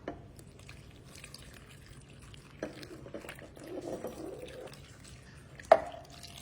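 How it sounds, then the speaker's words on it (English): Two cups of beef broth poured over steak in a crock pot, a quiet trickle of liquid with soft drips and splashes, faint and close, ending with a sharp clink near the finish. "Now this one is gonna have 2 cups of beef broth. And we're gonna pour that over the top."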